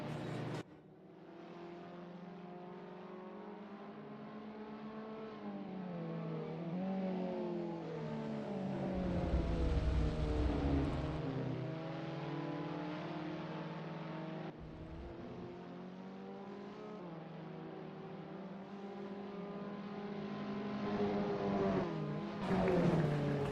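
A Caterham Academy 2020 race car engine drones steadily through a flying lap at the Tocancipa circuit, revving up and easing off through gear changes and corners, close and continuous with no voices, in a racing simulation.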